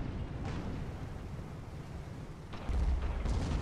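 Artillery barrage in a naval battle video game, a steady rumbling roar of distant gunfire that swells into a heavier, louder burst toward the end.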